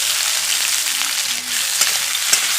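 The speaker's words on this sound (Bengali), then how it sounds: "হালকা ভেজে নেব পেঁয়াজ আর টমেটো" Onion and tomato pieces fry in a pan, giving a loud, continuous close-up sizzle with a couple of small clinks toward the end.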